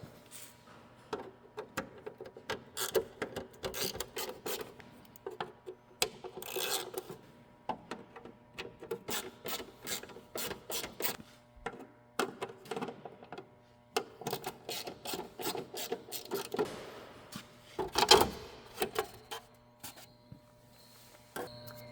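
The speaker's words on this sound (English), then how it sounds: "I'm going to start by taking 4 T15s screws out." Screws come out of a GMC TopKick headlight with a T15 driver, making a close run of irregular ratcheting clicks, scrapes and small knocks, with a louder clatter near the end and no talking.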